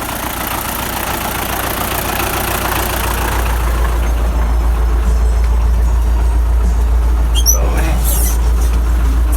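A tractor engine idles close by with a loud, steady low rumble that grows heavier after the first few seconds. Faint chirps briefly cut through near the end.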